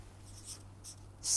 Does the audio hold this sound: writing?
yes